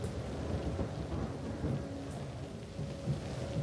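Heavy driving rain and a thunderstorm surround an American Airlines Flight 1420 airliner on approach through cloud, a dense steady downpour with low rumbling thunder throughout and no voices.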